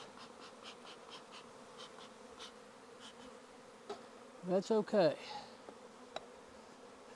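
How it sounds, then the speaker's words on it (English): A honeybee swarm buzzing during a hive transfer, a steady low hum of many bees with individual bees droning close past, and a person speaking briefly over the buzzing. "bees everywhere"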